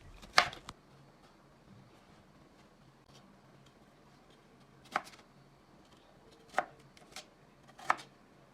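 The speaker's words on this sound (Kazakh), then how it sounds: "Енді картопты видеода көрсетілгендей етіп, бөліктерге бөліп шығамыз. Арнайы пышақпен бөлдім." Potatoes being cut into pieces with a special knife: a handful of sharp, isolated chops spaced seconds apart, fairly quiet, with long still gaps between them and no talking.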